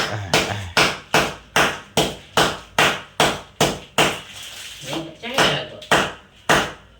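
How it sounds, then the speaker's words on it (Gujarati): A hard, sun-dried block of jaggery is struck repeatedly to break it. About thirteen sharp, loud, evenly spaced knocks land roughly every half second, with a brief irregular patch of softer cracking partway through. "બરોબર હવે ગોળ ભાંગવાનો હોય"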